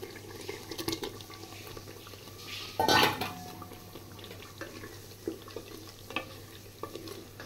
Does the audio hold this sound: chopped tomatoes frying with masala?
yes